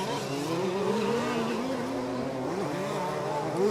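A large-scale off-road RC race car on a racing circuit finishing its lap, its small high-revving engine whining and rising and falling in pitch as it passes, steady and moderately loud.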